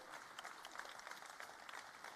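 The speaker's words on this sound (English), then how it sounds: "let's give him an applause" A small group applauds at a startup pitch night after a presenter leaves the stage, a brief patter of light claps mixed with faint crowd murmur, fairly distant and thin.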